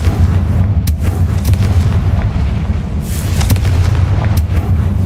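Fire-blast spell explosions from the Hogwarts Legacy video game, a loud continuous rumble of booming blasts with a few sharp bursts cutting through, dense and close with no talking.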